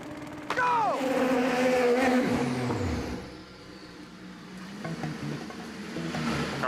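A race car launches hard and accelerates away in a drag-style pro-versus-pro run, a loud rising engine roar that sweeps down as it passes, fading into distant rumble before more engine noise builds again.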